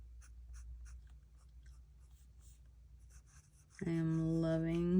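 Soft scratching of a medium-nib fountain pen on paper, quiet and intermittent, before a voice begins speaking over a steady low hum.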